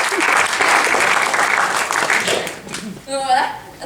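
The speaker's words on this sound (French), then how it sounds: "Très très bonne réponse, Mamadou, on peut l'applaudir, franchement, bravo." A theatre audience at a teen drama festival bursts into loud, dense applause that fades after about three seconds, followed by a voice and a short whistle-like sound.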